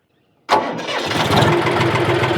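A Boomer tractor's engine cranks and fires up abruptly after a moment of silence, then settles into a loud, steady diesel rumble.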